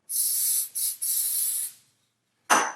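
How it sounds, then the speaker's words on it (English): Three quick bursts of glue activator spray hiss from a close nozzle while making a castle joint, then a short pause and one more brief spritz. "Then that way I can spray my activator"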